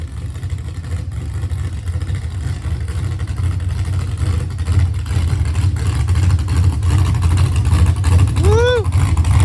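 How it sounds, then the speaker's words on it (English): A car engine idles steadily while warming up after a Multiport system fix, a continuous low rumble held close throughout, with voices talking over it and a brief rising chirp near the end. "we're letting the car warm up"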